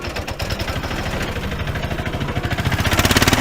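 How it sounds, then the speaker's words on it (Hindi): An auto rickshaw engine cranks and catches, a rapid, loud pulsing chug that steadies and grows stronger toward the end, with no talking. "मीठा रक्षा स्टार्ट करने लगता है।"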